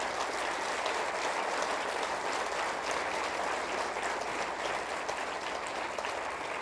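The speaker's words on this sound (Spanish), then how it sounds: "Me ayudan a aplaudirnos ustedes." Audience at a book fair talk in Guadalajara breaking into steady, dense applause that stays even and sustained from start to finish, no voices over it.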